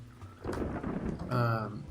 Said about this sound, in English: it's raining, so dwarves want to be inside.